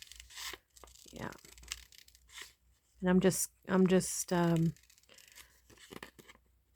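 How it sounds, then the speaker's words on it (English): Scissors crunch slowly through paper while journal pockets are made, giving short crisp cutting and tearing sounds close by, interleaved with a person speaking. "slowly crunching down on my scissors as I"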